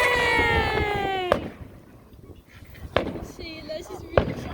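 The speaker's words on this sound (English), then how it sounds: "Look at the fireworks. It's so pretty." Fireworks burst over a dog park in three sharp cracks spaced apart, each trailing crackle, with a voice speaking and a whistling tone fading out at the start.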